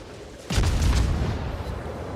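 Battleship guns fire in World of Warships, a heavy booming salvo that hits suddenly and rolls on in a loud, sustained low rumble.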